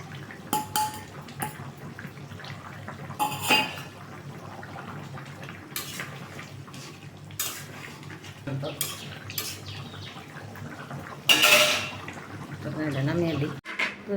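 A spoon stirs whole spices and garam masala in a metal cooking pan, with intermittent scraping clinks and soft sizzling close by, and a voice speaks now and then.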